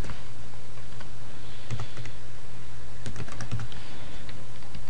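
Customer details are typed into a computer on a keyboard, producing scattered clusters of close key clicks over a constant low electrical hum and background noise, with no talking.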